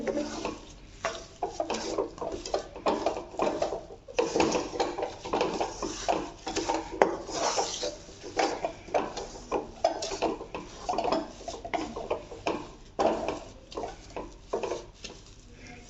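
A metal spoon stirs roasted semolina in a pan, giving a steady run of scraping and light clinking strokes, close and fairly quiet, with no talking.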